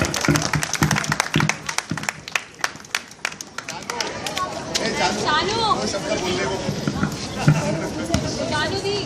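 An audience claps loudly after a school play, sharp distinct claps at first giving way to a dense burst of applause mixed with crowd chatter and voices.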